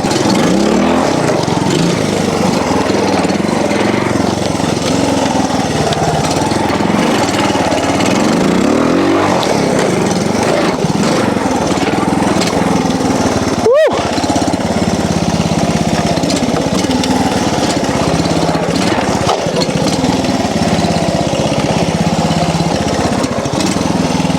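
A Honda TLR trials motorcycle engine runs close and loud, a steady mid-pitched drone for the whole stretch. There is a brief break near the middle and no talking.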